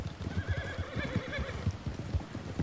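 A horse in the Red Dead Redemption 2 video game whinnies and neighs in a long, wavering call over a steady background of hoof clip-clop and game ambience, fairly loud and continuous throughout.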